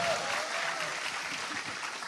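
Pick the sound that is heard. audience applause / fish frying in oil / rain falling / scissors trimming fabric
audience applause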